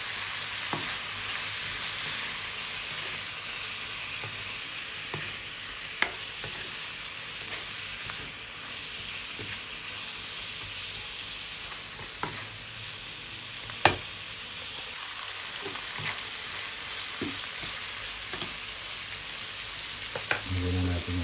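Food sizzling steadily in a pan while dinner cooks at home, a constant crackling hiss with occasional louder pops and stirring clinks, close and continuous with no talking.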